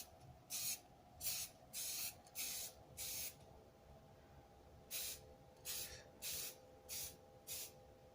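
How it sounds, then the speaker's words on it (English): A hand sprayer releasing about a dozen short bursts of hissing spray in an irregular rhythm, each lasting under a second, with a steady low drone behind and a gap midway. "look where I'm spraying"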